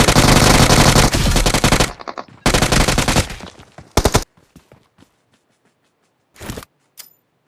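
Rapid bursts of automatic gunfire from the BGMI battle royale mobile game ring out loud and dense for about two seconds, then return in shorter volleys, followed by scattered faint single shots and a couple of brief late bursts.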